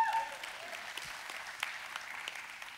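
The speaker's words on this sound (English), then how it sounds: "They're applauding anyway." A church congregation applauds in a sanctuary, a moderate, steady patter of many hands that continues evenly without speech.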